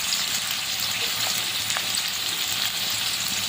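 Papaya and hard vegetables stir-fry in a hot pan for street-style chowmein, giving a loud, continuous, dense sizzle heard up close with no talking.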